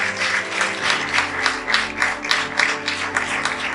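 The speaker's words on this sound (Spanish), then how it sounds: "Denle ese aplauso al Señor." Church congregation applauding during a Spanish-language sermon, a steady, dense wash of clapping that fills the room from start to end.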